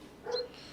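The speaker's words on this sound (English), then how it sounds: "Gotta love the barking" A single short dog bark or yip, somewhat distant and fairly faint, standing alone over low background noise.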